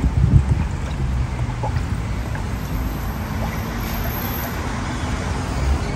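An Isuzu MU-X engine idling after cylinder head reassembly, with the heater blocked off, giving a steady low rumble heard close and continuous, with a brief knock near the start.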